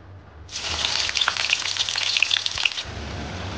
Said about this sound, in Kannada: ಈಗ ಫ್ರೈಡ್ ಆನಿಯನ್ ಮಾಡಲಿಕ್ಕೆ ಆನಿಯನ್ನ ಇಟ್ಕೊಂಡಿದ್ವಲ್ಲ ಅದನ್ನೇ ಹಾಕ್ತಾ ಇದ್ದೀನಿ.